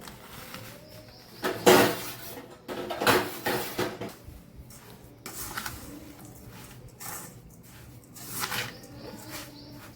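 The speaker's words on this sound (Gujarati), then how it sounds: "હાથેથી આપણે સરસ ખમણને મિક્સ કરી દીધું" Grated raw mango is mixed by hand into fenugreek spice masala for a pickle, giving soft squishing, rustling bursts of varying loudness with quiet gaps between.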